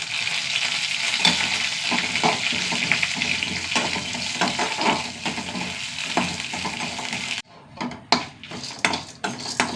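Cumin seeds and dried red chilies fry in hot oil, giving a continuous crackling sizzle with scattered pops and a few clinks of a utensil against the pan before the sizzling quiets and turns patchy.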